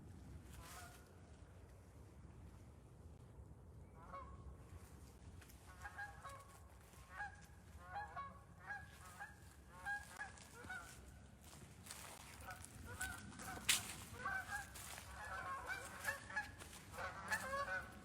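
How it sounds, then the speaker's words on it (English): Canada geese honk repeatedly at a distance along a wooded trail by a mill road, with scattered calls over quiet outdoor ambience and wind. "I hear Canada geese."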